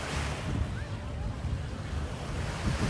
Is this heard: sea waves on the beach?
yes